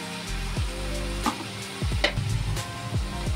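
Garlic paste mixed in water poured into a hot pan with ginger paste during Bengali cooking, giving a sustained sizzle with stirring scrapes and clinks at intervals.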